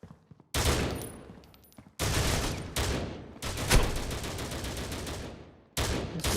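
Gunfire in the C-OPS competitive shooter game: loud, dense bursts of rapid shots arriving in several long volleys separated by brief gaps, with no talk.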